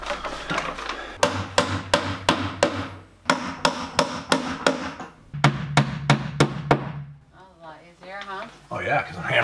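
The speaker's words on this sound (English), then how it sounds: "because I'm hammering from this side" Repeated hammer blows strike in quick bursts of four to six, loud and close, with short pauses between sets and a voice briefly talking at the end.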